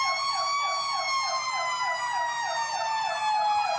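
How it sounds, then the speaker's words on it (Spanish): Fire engine sirens from Bomberos de Ñuñoa trucks wail continuously, loud and close, arriving at a hospital in La Florida, with a steady rising and falling tone and no speech. "Haciendo sonar sus sirenas"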